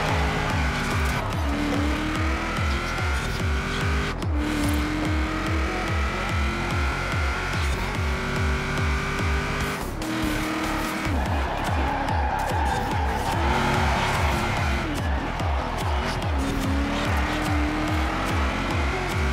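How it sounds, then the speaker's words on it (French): Handbrake slide of a Nissan Titan in Forza Horizon 4, a loud steady engine drone with tires squealing and skidding through the turn, continuous and close. "On sort un petit frein à main pour le kiff."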